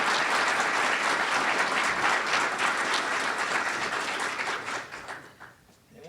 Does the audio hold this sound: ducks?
no